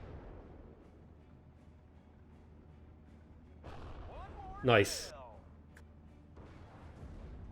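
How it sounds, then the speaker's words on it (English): An ammo explosion and artillery fire in the video game Steel Division, with a single sharp blast and crackling debris rising out of a low rumble, while someone speaks briefly. "We got an ammo explosion."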